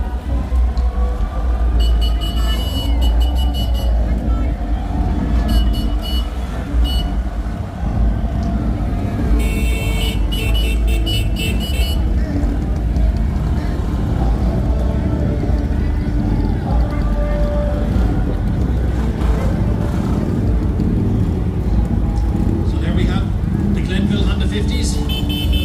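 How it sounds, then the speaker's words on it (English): Vintage motorcycles, including Vespas, BMWs and Hondas, pass in a St. Patrick's Day street parade. Their engines hum steadily under a crowd and a commentator's voice, with a few higher whines and horn-like toots. "So a great collection of bikes there. You've got Vespas, you've got a couple of BMWs."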